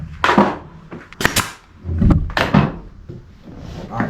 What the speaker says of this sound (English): Shoot the nail into this.